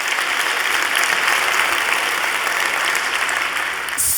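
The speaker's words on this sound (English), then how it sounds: "Give them a round of applause." Dense audience applause at a conference talk fills the space, a steady wash of many hands clapping at close range, holding level throughout and fading slightly at the very end.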